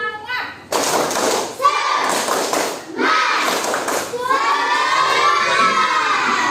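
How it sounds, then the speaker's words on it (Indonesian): A classroom of students stands and performs the rhythmic Indonesian 'tepuk semangat' clapping chant, loud overlapping children's voices shouting in unison with bursts of claps across the room. "kita lakukan tepuk semangat ya"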